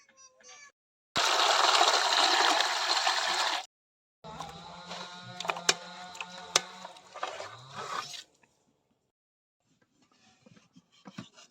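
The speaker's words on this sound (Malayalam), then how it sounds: "നമ്മുടെ ബീഫ് നല്ലതുപോലെ ഒന്ന് കഴുകിയെടുക്കാം ഒരു മൂന്നാല് വെള്ളത്തിൽ കഴുകണം" Two kilos of beef get washed by hand in a kitchen. Tap water gushes loudly for a couple of seconds, then wet splashing, scraping and handling noises follow closely, and the scene ends in near silence.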